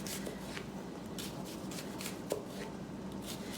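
A knife slices an onion into medium slices on a cutting board, with a quick run of soft, evenly spaced cutting taps heard close up and no one talking.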